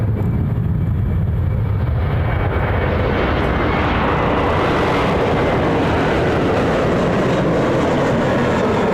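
An airliner takes off on runway 16 right at Sydney Airport at night, a loud sustained jet roar that builds and then spreads into a broad rumbling wash as it accelerates, with no voices.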